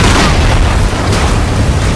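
Loud, sustained boom of a target being destroyed in Call of Duty: Infinite Warfare, a dense rumbling blast that fills the whole moment with heavy low-end roar and no pause.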